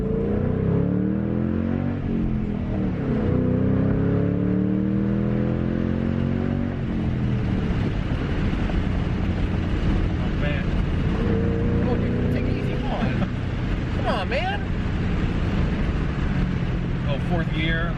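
A Ford Mustang GT/CS fitted with Borla ATAK mufflers accelerates hard through a gear run, its exhaust note rising steadily in pitch from inside the car and staying loud throughout, with excited voices over the engine.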